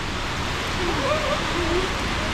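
Rain falls in Laos as a steady, even hiss over a short stretch, with a faint voice briefly in the background.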